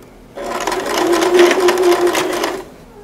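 An electric sewing machine stitches a seam on a penguin softie, running in one loud steady burst of about two seconds, then stopping.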